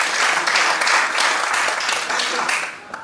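An audience at a film festival ceremony in Algeria applauds steadily, a dense wash of clapping that stays loud and then begins to thin out near the end.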